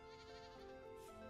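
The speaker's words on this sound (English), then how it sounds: "There's a goat somewhere." A goat in the survival game Vintage Story lets out a faint, wavering bleat, heard distantly and quietly with nothing else over it.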